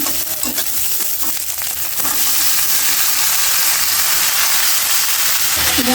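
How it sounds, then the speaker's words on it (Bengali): Cumin and green chili fry in hot oil with a loud, continuous sizzle and scraping stirring sounds, the hiss swelling and holding steady. "তেলের মধ্যে জিরা দিয়ে দিছি আমি পেস্টটি দিয়ে দিব কাঁচা মরিচ তো দিয়ে দিলাম"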